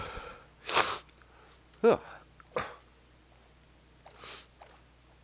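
A person recovering from a cold lets out a few short sneeze-like bursts, moderately close and separated by pauses, with a brief groan among them.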